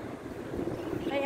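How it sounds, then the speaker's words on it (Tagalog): Wind blows outdoors as a low, gusty rumble buffeting the microphone, rising slightly toward the end, with faint voices underneath. "Ang hangin, ayan oh, kapaligiran."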